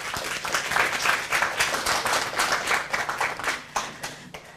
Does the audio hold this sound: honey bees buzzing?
no